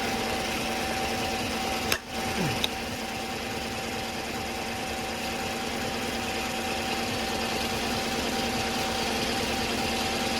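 A 4.3 engine in a Chevrolet Silverado idles steadily at operating temperature, a constant low hum with a faint whine throughout, plus a brief clank near the start.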